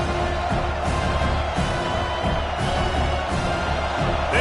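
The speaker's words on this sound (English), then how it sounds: "This crowd trying to make life miserable for this offense" Stadium crowd roar from a college football video game, a steady dense wash of cheering with faint periodic swells, loud and continuous throughout.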